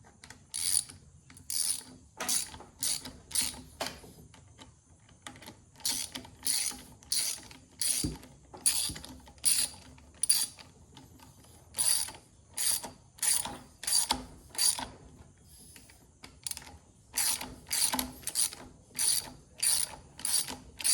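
Hand wrench ratcheting to tighten two nuts on a Poulan Pro PP338PT string trimmer, steady repeated clicking strokes in a regular rhythm with short pauses, close and crisp, no talking.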